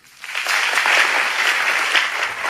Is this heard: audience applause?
yes